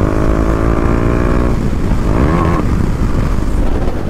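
A KTM Duke 390 motorcycle being ridden hard produces a loud, continuous engine drone, rising in pitch as it revs up and shifts partway through.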